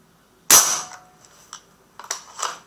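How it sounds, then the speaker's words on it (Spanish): A Fox Predator air rifle charged to 250 bar fires one sharp, loud crack, followed by a few fainter mechanical clicks and clatters in an otherwise quiet space. "Vamos con el primer tiro."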